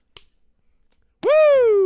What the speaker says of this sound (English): are you ready to clap now?